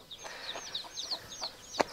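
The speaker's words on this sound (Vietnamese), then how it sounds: "Bao nhiêu con gà rồi tất cả?" Chickens on a newly built small farm cluck and chirp in a loose, repeated pattern close by, with a louder squawk near the end and no talk.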